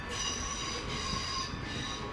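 Trains rumbling through a busy rail yard roundhouse, a steady loud roar of railcars with high wheel squeal and grinding running throughout, close and continuous with no voices.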